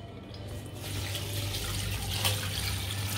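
Two litres of water pour into a cooking pot in a home kitchen for a chickpea and legume stew, making a steady running, splashing flow that continues without pause and without talk.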